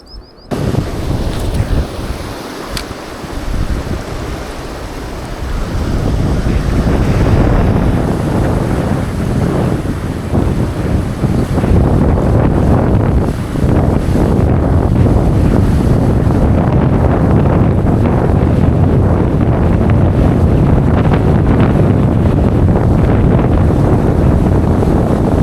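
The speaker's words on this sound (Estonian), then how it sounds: "meil ongi jõhker tuul siin" Strong wind on a riverbank in Lapland batters the microphone with a heavy, continuous roar and rumble that builds after a few seconds and stays loud and steady throughout, with no one talking.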